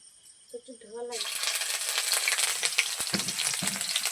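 Whole cumin and ginger paste hit hot oil and burst into a loud, continuous sizzle with crackles and occasional stirring scrapes. A brief voice is heard just before the frying starts.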